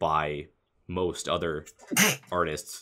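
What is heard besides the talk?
sneeze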